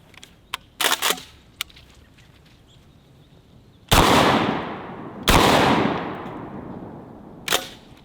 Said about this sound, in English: Let's go ahead and try some double-aught buckshot.